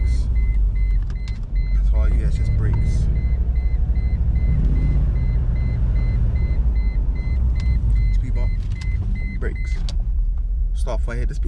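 A Mercedes-Benz CLK 430 (W202) engine runs with a steady low rumble throughout, close by, while someone talks over it.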